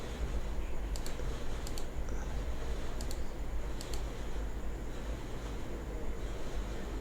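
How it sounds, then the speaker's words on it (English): Computer mouse clicked in short crisp pairs and singles, a handful of faint sharp clicks spaced over a low steady room hum. "let's click on it like this"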